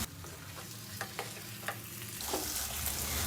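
Sliced tomatoes hitting a hot pan for a paneer and peas curry, a steady close sizzle with a few sharp clicks of a spoon against the pan, the frying growing louder and fuller toward the end.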